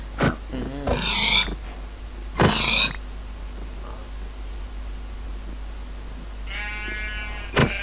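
Sheep bleat in a Minecraft survival game, with a few short wavering bleats early on and another drawn-out bleat near the end. They sound fairly close against a steady low hum.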